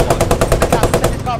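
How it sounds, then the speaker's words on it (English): Rapid automatic gunfire rattles out in a close, loud burst of about a dozen evenly spaced shots as covering fire in the World War II shooter Post Scriptum. "Just covering fire."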